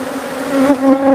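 A swarm of killer bees during a hive removal fills the air with a dense, steady buzzing hum, close and unbroken, with no voices.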